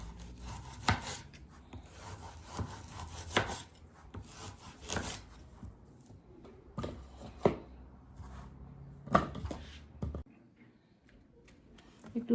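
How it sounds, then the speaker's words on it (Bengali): Food being chopped into small pieces with a knife on a board, several separate uneven knocks and scrapes at close range with quiet gaps between them. "ছোট ছোট পিস করতেছি"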